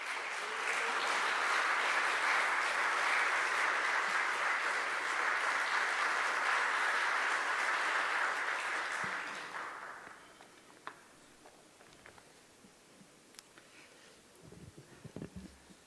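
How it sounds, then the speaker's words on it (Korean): An audience at a church denomination's candidate policy debate claps together for about ten seconds, a dense steady applause that fades out into a quiet hall with scattered small noises. "큰 박수로 모시도록 하겠습니다"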